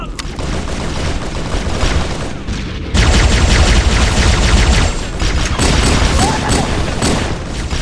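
A frag grenade blast and gunfire in Halo: Combat Evolved SPV3 aboard the Pillar of Autumn: loud, continuous gunfire that swells into a heavier booming burst partway through, then stays dense and close.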